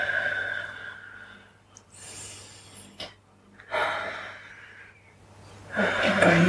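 Slow deep breaths during a guided yoga relaxation, several long airy inhales and exhales near the microphone with quiet pauses between, the last one loudest.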